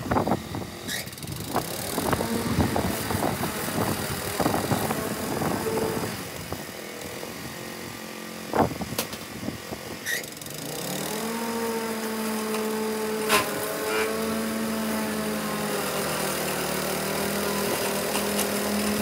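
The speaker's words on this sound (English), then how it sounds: "bagging or mulching the clippings with the 30-inch mower" A 30-inch lawn mower mulching grass clippings, its engine droning steadily and loud nearby, changing pitch as it works through the grass before settling into a smoother constant hum.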